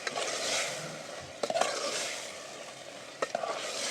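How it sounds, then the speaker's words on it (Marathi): Village-style salted chicken pieces are stirred in a black masala in a pan, making a close frying hiss with several scraping, clattering strokes of the spoon spaced through it, and no voices. "आता आपण ह्याला व्यवस्थित हलवून घेऊ"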